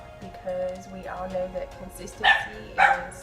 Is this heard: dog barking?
yes